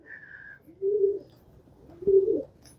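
Pigeons coo nearby in two soft, low, rounded calls, each about half a second long, separated by a short pause and preceded by a faint higher chirp, with no voices.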